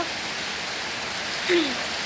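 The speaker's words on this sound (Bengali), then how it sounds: "এখন কিন্তু প্রচুর পরিমাণে বৃষ্টি হচ্ছে" Heavy rain pours down at night, a dense, steady hiss close by with water pooling, and a brief faint voice rises midway.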